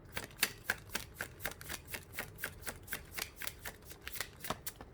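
Tarot cards are shuffled in a quick, steady rhythm, with crisp riffling flicks repeating several times a second, close and fairly quiet.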